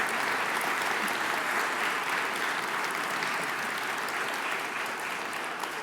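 Sustained applause from an audience at a tech community event, a dense steady wash of many hands clapping at moderate distance without a break.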